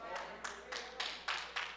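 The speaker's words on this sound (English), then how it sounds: "Thank you for those hand claps." About six sparse, quiet hand claps from an audience at a church coffee-and-conversation gathering, evenly spaced and fading in and out.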